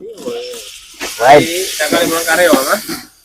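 Tomatoes hit a hot pan while cooking chicken biryani, giving a steady hissing sizzle close by that runs beneath people talking.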